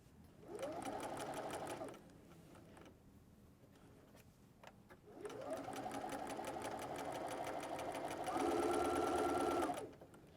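A sewing machine stitches a cuddle throw blanket in two rapid, rattling bursts: a short run, a pause with faint handling sounds, then a longer run that speeds up near the end before stopping.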